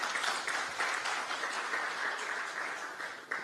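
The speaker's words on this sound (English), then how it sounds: "A round of applause to the Honorable Minister." A crowd applauds steadily for a few seconds, a dense wash of clapping hands at moderate distance with no voices over it.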